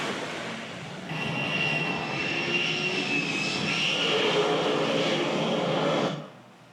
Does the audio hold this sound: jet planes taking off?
yes